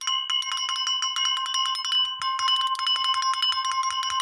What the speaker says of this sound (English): Ring my bell, ring my bell,